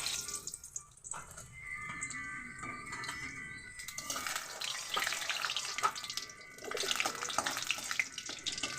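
Bay leaves and cumin seeds sizzle in hot oil in a wok, a steady bright hiss that swells louder partway through and carries on without talk.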